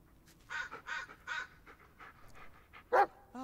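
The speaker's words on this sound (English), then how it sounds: "Oh, dude, it's my dog right there." A dog pants in short bursty breaths, quiet and close, inside the Blair Witch video game, with a brief louder bark-like call near the end.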